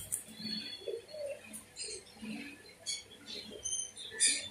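Pigeons splash and flutter in shallow water, with soft coos and scattered wing flaps close by, irregular bursts of activity.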